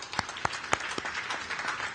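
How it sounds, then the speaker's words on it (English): A small group claps for Staten Island Ferry workers during an inaugural ferry ride, with a handful of scattered, quiet handclaps over about two seconds and no talking. "Can we please give them a big round of applause?"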